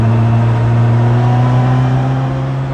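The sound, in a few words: motorcycle exhaust at low RPM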